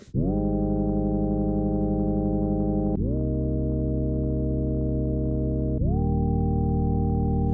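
A smooth, pure sine-wave synth tone with a few voices holds steady, changing pitch twice in clean steps, warm and full with no other sound around it.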